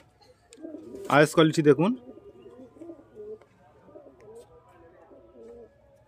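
Rampuri Reshmi Jhuri pigeons in a loft give low, soft cooing that lingers quietly after a short stretch of nearby speech.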